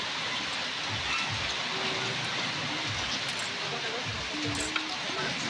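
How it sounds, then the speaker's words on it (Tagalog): Rain pours down steadily, a dense hiss of drops on surfaces with no break across the whole stretch. "Medyo malakas-lakas pa yung ulan."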